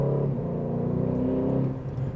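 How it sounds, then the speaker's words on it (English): Aston Martin DB12 S V8 with a titanium exhaust holds a deep, bassy drone that builds under load, a sustained loud bellow over a couple of seconds with no talking. "And then there's the titanium exhaust, which just sounds absolutely incredible."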